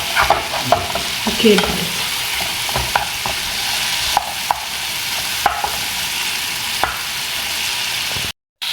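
Meat fries in a pot for tlitli with a steady close sizzle, punctuated by sharp clicks and scrapes of stirring, while someone briefly speaks over it.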